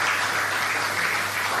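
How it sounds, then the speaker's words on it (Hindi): Loud, continuous audience applause at a community Q&A event, a dense wash of clapping that stays steady for the whole short stretch. "फिर से जोरदार तालियां सबके लिए."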